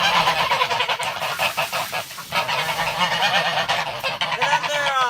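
A flock of geese honks continuously and loudly at close range, many overlapping calls forming a noisy chorus.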